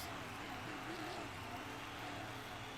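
Monster truck engine roaring steadily through a freestyle run on BKT tires at an Indianapolis arena show, a dense continuous drone with faint commentary voices underneath.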